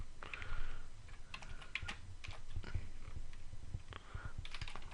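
Someone types code on a computer keyboard, producing quick irregular bursts of light key clicks at close range with a few short pauses. No one speaks.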